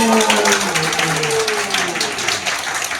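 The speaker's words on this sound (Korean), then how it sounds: "박수!" A church crowd claps together in steady applause at a celebration after a canonization thanksgiving Mass, with a voice trailing off at the start.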